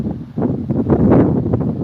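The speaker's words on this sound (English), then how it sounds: "that's the sound of the wind cruising around the microphone" Wind on a stormy winter morning in Lapland, Sweden, buffets the microphone in low, rumbling gusts, rising and falling over a couple of seconds with no voices.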